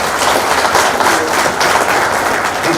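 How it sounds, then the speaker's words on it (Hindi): A crowd at a government program's closing session applauds without pause, dense and loud clapping that fills the whole moment. "गिरीश जी के लिए एक बार जोरदार ताली"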